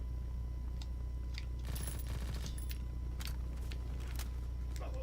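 Call of Duty WW2 gunfire, a cluster of quick, sharp shots with a few scattered single reports over a steady low background hum.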